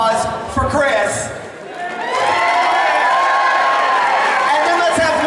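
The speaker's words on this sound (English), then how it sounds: "let's have one big, huge round of applause for Chris" A convention crowd at a costume contest cheers for a contestant, with whoops and shouts building after a brief lull and swelling into loud, sustained cheering with some clapping.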